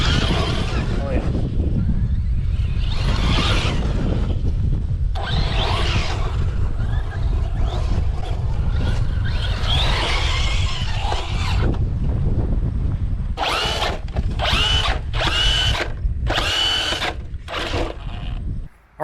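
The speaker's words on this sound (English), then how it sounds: "we just finished the first run of the Traxxas HOSS" Traxxas HOSS 4x4 RC truck running outdoors, a steady whining motor drone with rising and falling bursts of speed and a few sharp loud revs near the end, with people talking now and then.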